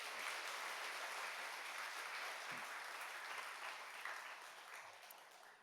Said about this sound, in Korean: 우리 환영의 박수로 우리 목사님 모시겠습니다.